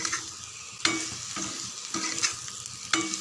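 Potatoes and green chillies sautéing in a pan with asafoetida powder, a steady close sizzle punctuated by rhythmic spatula scrapes roughly every half second to second, with no one speaking.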